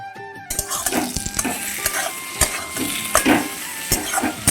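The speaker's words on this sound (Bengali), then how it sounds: "হলুদ গুঁড়ো দিয়ে এবার আমি মশলাটা হালকা আঁচিয়ে ভেজে নেব" Ground spice mix with turmeric powder fries in a pan over low heat with no water added, a close crackling sizzle under repeated scraping strokes of a spatula stirring it.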